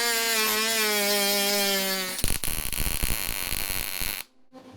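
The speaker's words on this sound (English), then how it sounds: "let's tack that in and double check the fitment" Tack welding metal parts of a cart frame: a tonal whine winds down first, then about two seconds of harsh, crackling arc buzz, close and loud, before it cuts off to near silence.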